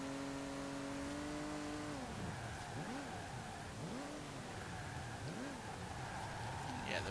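A car engine in the Forza Horizon 4 racing game revs and climbs through gears, its pitch rising and dropping in repeated sweeps, loud and continuous.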